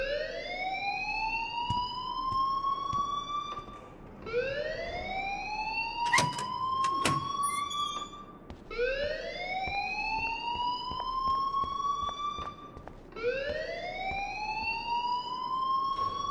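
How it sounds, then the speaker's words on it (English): A school fire alarm in the Life is Strange video game rings in repeating rising electronic sweeps, loud and continuous, with brief pauses between cycles and a few sharp tones layered in. "please turn off that alarm since that's your job"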